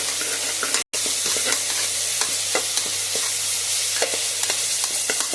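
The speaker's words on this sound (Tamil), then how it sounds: "இது கொஞ்சம் நல்லா வதங்கட்டும்." Sliced onions with ginger garlic paste sauté in sesame oil for a mutton kuzhambu, giving a steady close sizzle broken by frequent light stirring clicks and scrapes, with one brief silent gap near the start.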